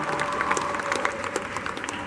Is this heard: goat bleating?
no